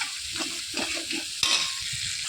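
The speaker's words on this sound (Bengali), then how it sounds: "এবার আদা রসুনের পেস্টটা দিয়ে দিয়েছি, দিয়ে এবার ভালো করে কষিয়ে নেব এটাকে" Chicken sizzling in a pan with ginger-garlic paste, stirred with repeated scraping strokes and one sharp clatter, a steady close frying hiss running underneath throughout.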